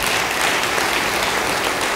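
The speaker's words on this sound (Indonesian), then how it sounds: "Beri tepuk tangan sekali lagi." An audience at a church sermon claps together in a steady, thick burst of applause that stays loud and even for its short length, with no talking over it.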